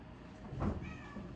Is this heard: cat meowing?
yes